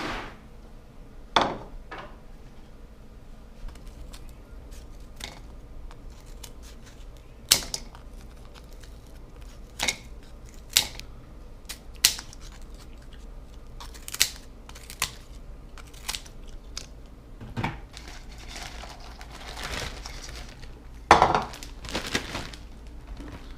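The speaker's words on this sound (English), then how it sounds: "I like to just take it and cut it up into a bowl and then put it in a Ziploc" Beef jerky is cut up into a bowl and bagged in a Ziploc. Sporadic sharp, close taps and clicks are spaced out over a quiet background, with a busier cluster near the end.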